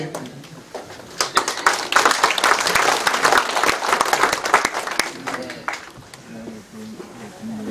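Audience applause at a citizens' town-hall meeting in Hobeop-myeon, Icheon, a loud, dense burst of many hands clapping that swells, holds, then thins out, with voices talking before and after.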